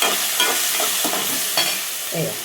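Chicken curry with potato pieces and chana dal being stirred after a spoon of turmeric goes in, a loud close sizzle broken by several scraping stirs of a spoon against the pot.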